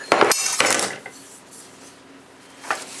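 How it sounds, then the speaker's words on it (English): A hammer taps while a Musso style Bowie knife guard is fitted, two or three quick sharp metallic strikes close by, a quiet gap, then one lone tap near the end. "I'm going to take my hammer"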